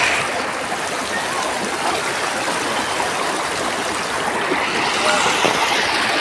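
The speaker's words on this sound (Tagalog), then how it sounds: "Ang ganda ng agos, oh." Close, continuous rushing of a flowing mountain stream, a steady broadband wash of water that stays loud from start to finish.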